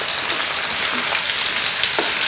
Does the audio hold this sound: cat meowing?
no